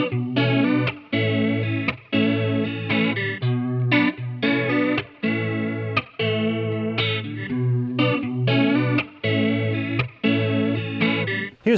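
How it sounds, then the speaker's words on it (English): The same guitar loop plays through the original chorus pedal, with repeated strummed chord phrases of steady rhythm and a warm modulated shimmer and some grit. Loud and close with no voices. "Here's the same loop run through the original."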